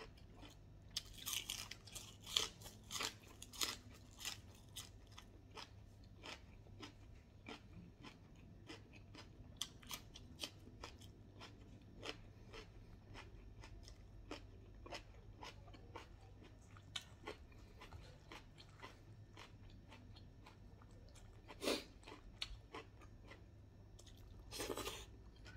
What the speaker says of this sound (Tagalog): Crunchy vegetable.